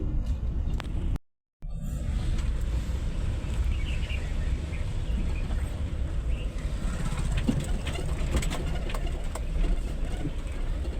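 A tractor engine idles with a steady low rumble close by, cutting out for a moment near the start before continuing.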